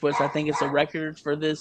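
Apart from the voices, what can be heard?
dog barking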